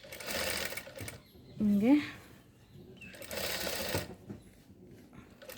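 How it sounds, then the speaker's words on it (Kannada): A sewing machine stitching piping onto fabric runs in two short, close whirring bursts with a pause between them, and a person speaks briefly in the gap. "ಇನ್ನು ಈ ಥರ ಇದನ್ನ ಹೆಂಗೆ ಸ್ಟಿಚ್ ಮಾಡೋದಂತ ತೋರಿಸ್ತೀನಿ"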